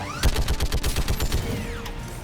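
Rapid automatic gunfire in Mass Effect 3, a fast burst of about a dozen close, punchy shots followed by a short ringing tail.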